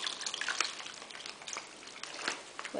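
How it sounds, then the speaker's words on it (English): Cooled marinade with onions poured from close by over a roast sealed in a Ziploc bag set in a glass dish, a quiet continuous trickle with small splashes and drips. "So now I'm just going to pour the cooled marinade"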